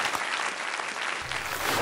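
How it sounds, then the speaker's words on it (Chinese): An audience at a popular-science talk claps to welcome a veteran volcano researcher to the stage, a dense burst of applause from a crowd that stays steady and fairly close throughout, with no speech over it. "掌声欢迎。"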